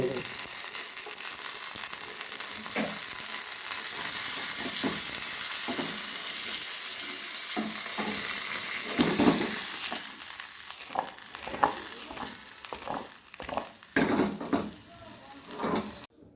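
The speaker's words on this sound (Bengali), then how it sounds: "এবারে তেলে টমেটো আর রসুন আদা কাঁচা লঙ্কা পেঁয়াজ আমি একটু তেলে ভেজে নেব" Tomato, garlic, ginger, green chilli and onion frying in oil in a pan, a steady sizzle with occasional stirring scrapes and clinks from a utensil.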